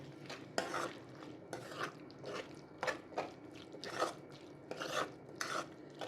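Mushroom masala with cashew paste is stirred in a pan, a series of quiet rasping scrapes in an uneven rhythm, close but faint, with no voices.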